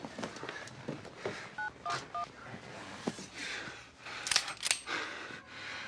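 A telephone keypad is dialed to call an ambulance, several short two-tone DTMF beeps in a quick irregular sequence, close and clear over a noisy indoor background with scattered clatter.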